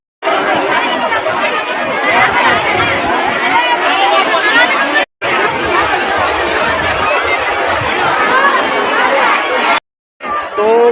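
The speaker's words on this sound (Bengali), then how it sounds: "এখানটা রথের মেলায় ভিড়টা দেখো তোমরা" Dense, loud crowd chatter fills a packed Rath fair and Mina Bazar at Balarampur, with people pushing through. The babble is continuous and close, with a couple of brief cuts in the sound.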